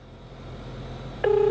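A phone call is being placed. After a faint background hum, a single clear, loud tone begins near the end and holds steadily.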